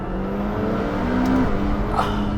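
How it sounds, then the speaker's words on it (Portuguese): A McLaren 720S V8 engine revs steadily under load, with a sustained droning tone that climbs briefly in pitch before settling, heard close and loud with no talk over it. "Este V8 é simplesmente inebriante."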